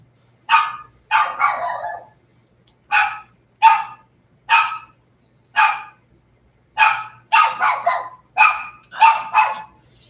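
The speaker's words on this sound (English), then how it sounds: "I liked it better when she couldn't bark." A small dog barks nearby, giving about a dozen sharp yips in irregular bursts and doubles with short silent gaps between them.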